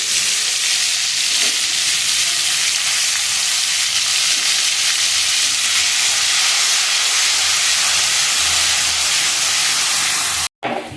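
Garlic paste hitting hot oil in a pan, a loud continuous hissing sizzle that holds steady for about ten seconds before cutting off abruptly.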